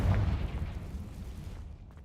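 Confringo, a blasting spell in the Hogwarts Legacy wizard game, sets off a loud, deep burst that opens strongly and rolls away in a rumbling decay over about two seconds.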